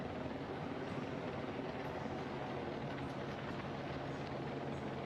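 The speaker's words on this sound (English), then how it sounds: "The helicopters have been up" A steady helicopter drone with a dense rotor rumble over a mountain bike race in the Dolomites holds at a constant level throughout, with no speech.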